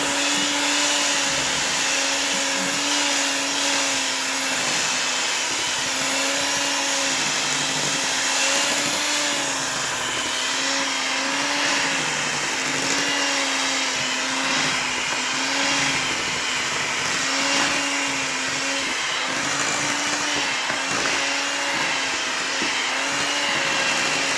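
Electric mixer beating maple walnut cake frosting, a loud continuous motor whine with a slight wavering pitch, held steady and close throughout.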